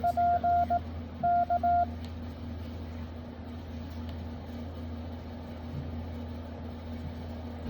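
Short beeping Morse code radio tones in two quick bursts over a steady electrical hum and hiss, then only the drone continues.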